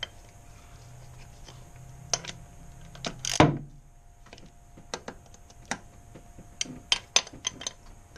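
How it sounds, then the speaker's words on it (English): Hand tightening valve cover bolts on a 2002 Nissan Pathfinder: scattered small metallic clicks and ratchety ticks at irregular intervals, with one louder clank near the middle, close up and otherwise quiet. "I'm just hand tightening these bolts right here."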